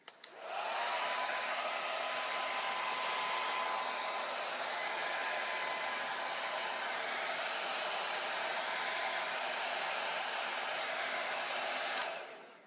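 A hair dryer blows loudly and steadily at close range for about eleven seconds, drying paint on an owl door hanger, then clicks off.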